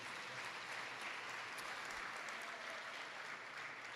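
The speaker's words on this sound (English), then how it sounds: "Give him another round of applause, please." Sustained audience applause at the Ginn Academy graduation ceremony, a dense, steady wash of many hands clapping at even loudness throughout, with no speech over it.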